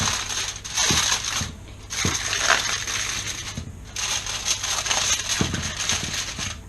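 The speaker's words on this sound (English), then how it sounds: "I'm going to cover this in a bit of tin foil." Tin foil crinkling and crunching close up as it is pressed over a vegan lasagne dish, with bursts of rustling and a few sharp taps against the dish edge over several seconds.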